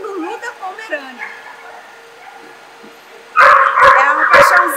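Small dogs at a dog show where a Pomeranian is on display, giving a quick burst of sharp yips and barks near the end, after a stretch of talking.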